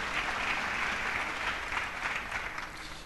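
Congregation in a church service applauding to acclaim the word of God: thick, continuous clapping from many hands, fairly even in loudness throughout.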